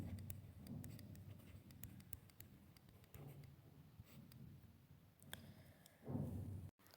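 A pen scratching across paper while someone writes a translation from English into Hindi, faint and close, with soft irregular strokes and a brief louder rustle near the end; no speech.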